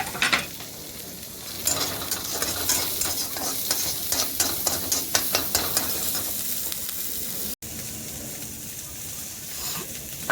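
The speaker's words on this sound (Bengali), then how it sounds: "পেঁয়াজ রসুন লঙ্কা ভাজা হয়ে গেলে টমেটো হয়ে গেছে" Onion, garlic, chilli and tomato fry in a pan, with a steady close sizzle and a run of scraping stirring strokes through the middle, then a brief dropout before the frying carries on.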